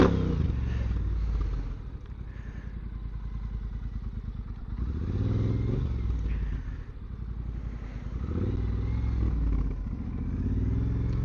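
A Triumph T120 motorcycle on the road near Hout Bay, Cape Town, its engine droning steadily and rising and falling as the rider works the throttle, loud and close with wind noise and no talking.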